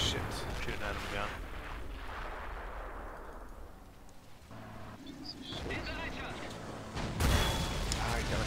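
Gunfire and artillery blasts in the Men of War 2 game, a dense rumble of shots and booms with a sharp loud burst near the end, heard under players' voices.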